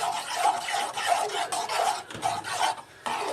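A spoon stirs and scrapes a mixture with cornstarch around a pot over low heat in quick, repeated rasping strokes, close up and continuous, with no one speaking.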